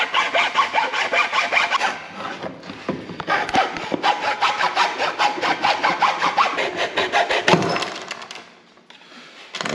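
Hand-cutting away a piece of plastic during a Can-Am Maverick X3 intake install gives close, rhythmic rasping strokes that run continuously for nearly ten seconds with only brief pauses.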